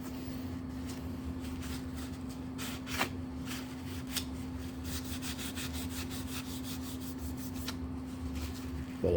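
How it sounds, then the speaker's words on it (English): Athearn steel model train weights being scrubbed to remove rust, producing a steady, close, gritty rubbing that runs continuously with quick repeated strokes over a constant low hum, and no one talks. "So we can see we're getting a lot of the rust off here"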